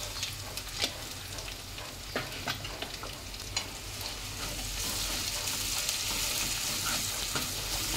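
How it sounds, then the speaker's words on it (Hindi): Chili powder and turmeric are stirred into sizzling oil for beef biryani, with scraping spoon strokes against the pan over a steady frying hiss that grows fuller toward the end, no talking. "अच्छे से मिक्स करेंगे इसको"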